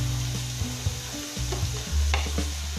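Chopped onion and potato sizzle and fry steadily in a hot pan for bread cutlets, with a continuous close crackle and occasional stirring scrapes, no voices.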